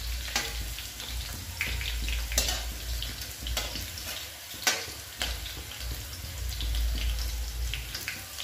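Onion and green chilli frying in a pan for homemade noodles, a constant close sizzle broken by several scraping stirs and clatters, with no talk.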